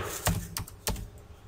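Three sharp key taps spaced out over a moment, close and fairly crisp, like slow typing on a computer keyboard in a quiet room.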